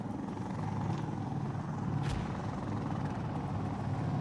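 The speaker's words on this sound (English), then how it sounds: "Get far enough that we're not going to get shot by that helicopter." Helicopter hovering in a shooter video game near a power plant, a steady heavy rotor drone throughout, loud and continuous, with a brief sharp crack partway through.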